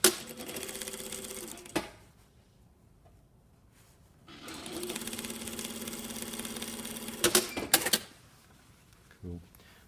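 A sewing machine stitches a shirt yoke seam in two steady whirring runs separated by a quiet pause, ending with a few short clicks.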